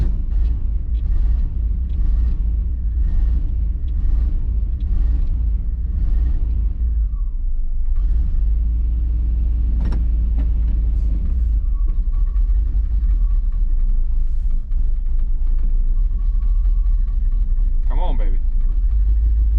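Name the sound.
1991 Chevy Silverado truck engine running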